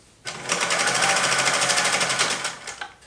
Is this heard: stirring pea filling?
no